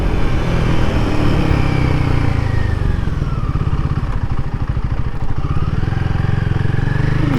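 A Royal Enfield Guerrilla 450 motorcycle rides in second gear, its single-cylinder engine loud and close with a throbbing exhaust note that dips briefly and then climbs again as the bike pulls along the road.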